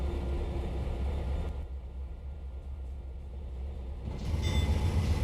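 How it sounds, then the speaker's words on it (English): An Amtrak train led by a P40D locomotive hauling private cars rumbles past in the Trainz simulator, a steady low rolling roar that thins briefly in the middle and then swells louder again as cars go by. "Got an Amtrak train once it loads in here."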